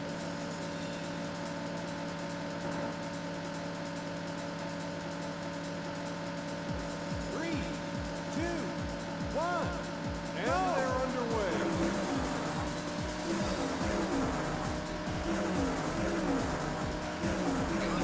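Race car engines in a Sega Saturn racing game on an emulator, a steady drone that gives way to rising and falling revving as cars pull away, with a voice over the start.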